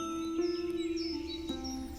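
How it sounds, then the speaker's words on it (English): Garden birds chirping and singing in trees, faint and distant, a few soft tweets over a steady calm background. "Birds in the trees."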